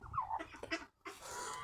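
Hens on a small farm flock give short, close clucking and squawking calls in two bursts separated by a brief pause.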